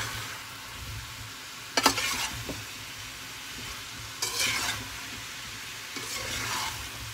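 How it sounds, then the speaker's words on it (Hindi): A ladle stirs aloo gobi, cauliflower and potato with spices, in a pot over heat, giving three short bursts of scraping and sizzle against a low steady background hum. "इहदे विच तुसी हल्की हल्की कड़छी चलाते रहो।"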